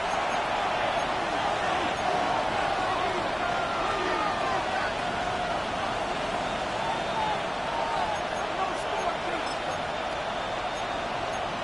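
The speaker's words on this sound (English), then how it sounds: "This crowd turning up the decibel level." A stadium crowd in an EA Sports football video game, late in a tied game on third and long, keeps up a steady, dense roar. Commentary voices run over it.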